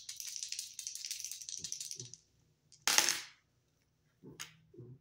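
Dice clatter and rattle across a hard surface, a couple of short tumbling bursts with quiet gaps between, close up.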